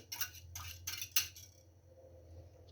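Metal spoon clinking and scraping against a clay makitra bowl while stirring a mixture for Easter paska dough, four or five quick bright clinks close up, then quieter faint scraping over a low steady hum.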